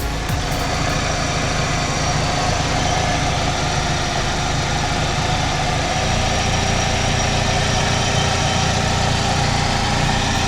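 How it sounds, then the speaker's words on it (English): Dual overhead cam 16-valve engine in a Kia Spectra5 runs at a steady idle, a continuous close, even hum with light mechanical vibration and no talking. "you got a dual overhead cam, 16 valve Kia motor that seems to run pretty good"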